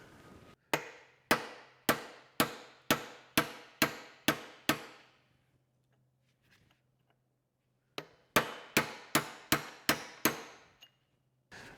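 Roll pins are hammered out of the hydraulic lift-arm clevis on an Allis Chalmers D17 tractor, using a cut-off bolt as a punch. Two bursts of about eight to nine sharp, ringing metallic blows each, close and loud, separated by a pause.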